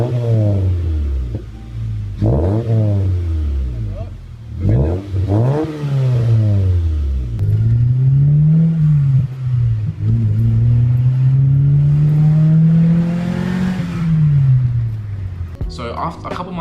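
A car engine with a newly installed exhaust and muffler revs hard several times, rising and falling in loud throaty sweeps, then holds a long sustained rev before dropping off.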